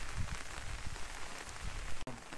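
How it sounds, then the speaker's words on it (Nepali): Continuous rain falls steadily in Bahundangi, Jhapa, Nepal, making a dense, even hiss of drops on surfaces at moderate level throughout, with no voices. "झापाको बाहुनडागीमा आज पनि निरन्तर झरी परिरहेको छ है।"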